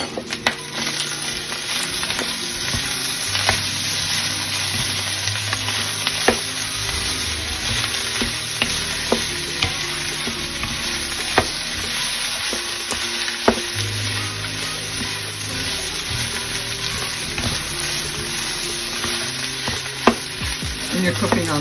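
Chopped green onions and sesame oil sizzle steadily in a pan over low heat, with repeated stirring clicks and scrapes throughout, loud and close.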